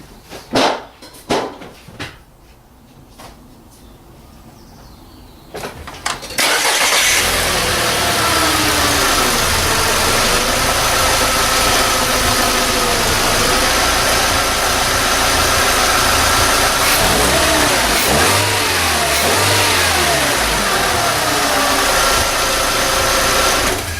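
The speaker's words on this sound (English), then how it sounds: "we'll just get the car running." A few clicks and cranking sounds, then an Audi car engine catches and roars to a loud steady idle that runs on, with a dog barking briefly over it.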